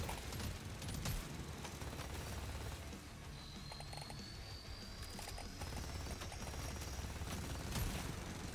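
Rapid bullet fire in the video game Deep Rock Galactic Survivor rattles in dense continuous bursts with scattered impacts and a faint whistling tone, moderately quiet and steady throughout without speech.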